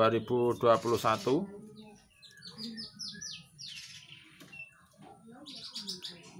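A voice speaks briefly, then a male white-rumped shama sings nearby with a run of quick, rising whistled phrases and varied chirps, fairly loud against a quiet background.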